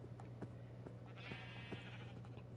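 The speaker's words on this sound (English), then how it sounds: "they made a sheep sound like 15 times" Sheep bleats from the Minecraft video game, a few faint repeated calls over a steady low hum.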